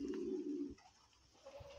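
Pigeons in a pigeon loft give a short, fairly loud coo, followed by a quieter pause and a fainter second call near the end.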